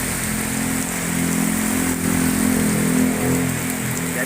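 Heavy rain pours down in a dense, steady hiss with a faint engine hum underneath, constant and close throughout.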